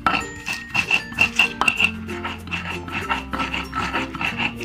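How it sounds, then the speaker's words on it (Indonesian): Spices ground in a stone mortar and pestle (ulekan) for cilok seasoning, repeated close scraping and rubbing strokes in a steady rhythm with occasional gritty clinks, no voices. "Kita ulek sampai benar-benar halus."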